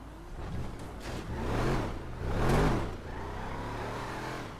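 Car engine in a role-play video game revving in two rising and falling swells over a steady running drone, moderately loud and close.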